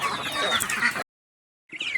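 Chickens clucking close by, a dense burst of calls, then a brief silence before the clucking resumes.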